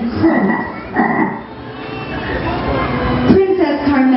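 A storyteller's voice imitates a frog croaking in a fairy tale about a princess and a frog, giving repeated low croaks in short bursts that blend into her speech.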